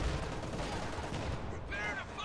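Distant anti-tank gunfire from a .57 gun in Company of Heroes 2 sits within a dense, continuous battle din of muffled shots and rumbling, with a few brighter tonal whines near the end.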